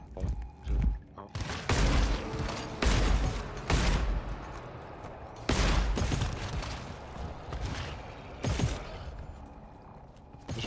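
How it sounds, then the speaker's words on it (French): Heavy bursts of gunfire and booming impacts erupt repeatedly in the video game GTFO, loud and close, with sustained firing in clusters and brief lulls between volleys. "Vas-y, on tire."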